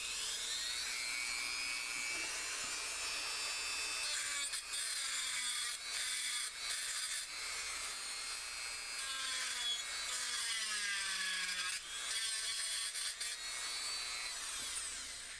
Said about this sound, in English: we're going to use the Dremel with the barrel cutter on it to do most of the cut down on this